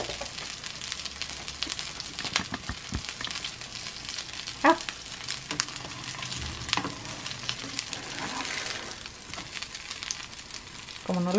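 Bean burgers sizzle steadily in a lightly oiled pan, with scrapes and soft clatters as they are flipped with a utensil, all close by.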